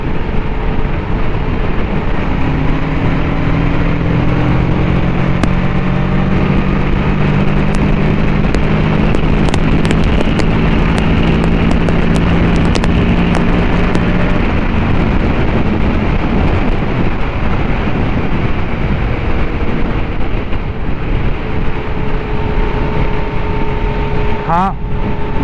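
A Kawasaki Ninja 650 motorcycle is ridden on the road and accelerating. Engine drone climbs steadily in pitch under constant loud wind buffeting from the ride, with no pauses throughout.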